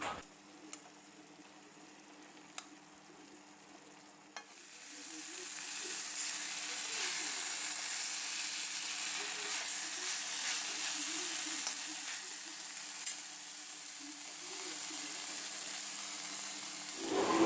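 Dhekiya xaak, fiddlehead fern greens, sizzle in a hot pan while being stir-fried until their moisture cooks off. The sound starts quiet with a few clicks, then swells into a loud, steady frying hiss that holds to the end.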